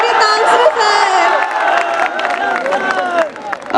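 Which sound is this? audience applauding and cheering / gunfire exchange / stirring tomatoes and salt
audience applauding and cheering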